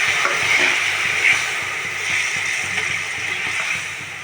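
Turmeric water poured into a cooking pot of mankochu with loitta shutki, a steady liquid rush and bubbling hiss lasting the whole moment, close and fairly loud with no voices.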